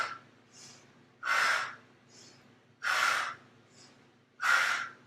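Quick, forceful yoga breathing at a steady pace: three strong, noisy breaths alternate with softer ones, close and clear with no talking.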